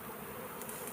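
A honeybee colony working on a hive frame with a beeswax starter strip gives off a faint, continuous buzzing hum up close, with no other sounds.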